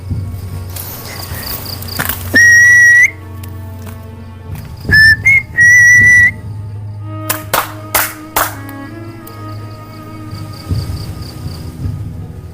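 Whistling echoes inside an old train carriage, short bright whistled tones between loud sharp claps and knocks, with a steady cricket-like chirp behind them.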